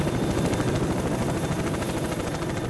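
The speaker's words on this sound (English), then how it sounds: "The helicopter sees me, by the way." A helicopter in the video game STALKER: Shadow of Chernobyl, a continuous loud rotor thump with rapid, steady blade chopping that stays constant throughout.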